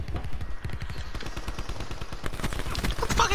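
Rapid automatic fire from the Hades machine gun in Black Ops 4, a steady stream of close, loud shots running the whole time and thickening into a denser burst near the end.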